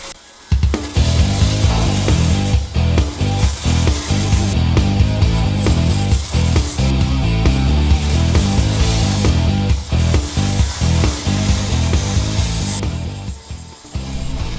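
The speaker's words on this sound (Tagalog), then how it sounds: "grinding muna para makinis, para matanggal yung mga kalawang" Steady, loud power grinding of rust off a ship's deck before painting, a continuous rough abrasive roar that runs almost unbroken with brief dips in pressure and no voices.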